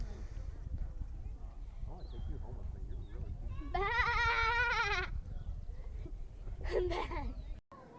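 Goats and small pygmy kids bleating in a railroad park's petting area, with several wavering cries in bursts over busy background chatter and shuffling, one loud bleat mid-clip and another near the end.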